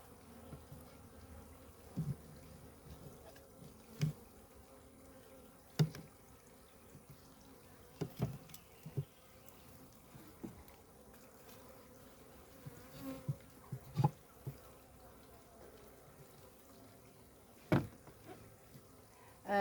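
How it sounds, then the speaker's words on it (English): Honeybees buzz steadily around an open hive outdoors, a faint continuous drone broken by occasional soft knocks and taps of hive handling. "I am being a little more cautious with this hive"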